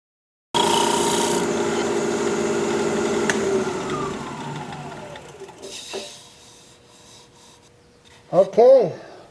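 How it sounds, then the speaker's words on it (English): A steel scraper cuts across a spinning piece of Japanese quilted maple on a wood lathe, making a steady close rasping scrape for several seconds. The scraping fades, then a few short whirring squeals follow near the end. "I'm going to put a fresh edge on my scraper and we'll scrape."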